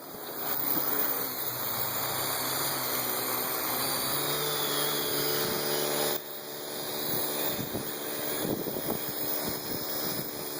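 Parrot AR Drone 2.0 quadcopter setting down and then idling: a steady, close electric whine with layered tonal hum runs continuously, dipping briefly midway before resuming at the same level.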